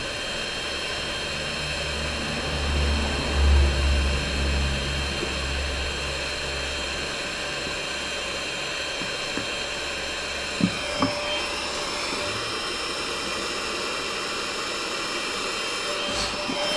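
A JCD 8208 heat gun blows hot air with a steady, fairly faint whooshing hum, used while working on a Citroën C3 Picasso, with a couple of small clicks near the end.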